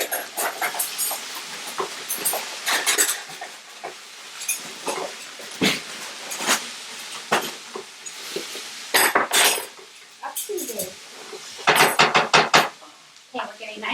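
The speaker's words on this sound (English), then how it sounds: "Let me give my veggies one more stir before I pop out." Vegetables being sautéed and stirred in a pan, heard as repeated scraping and clinking of utensil against cookware in irregular bursts, close and fairly loud, with a faint sizzle underneath and no talking.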